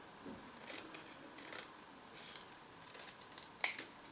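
Scissors cut paper strips for embossed trees in a paper craft session, giving soft repeated snips that end with one sharper, closer snip near the finish, with no voices present.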